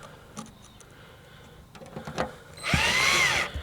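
A power drill whirs in one short burst of about a second as it drives a screw into a plastic RV vent cover, after a few quieter clicks and handling knocks.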